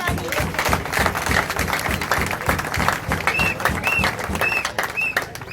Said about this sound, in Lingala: Acclamez pour Fati.